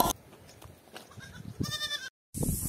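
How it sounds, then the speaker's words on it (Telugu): Goats bleat in a goat pen beside a trekking path near a waterfall outside Tirupati, a few wavering cries rising clearly over quiet outdoor background, with short gaps between calls. "దారి మధ్యలో మేకల దొడ్డి కనిపించింది."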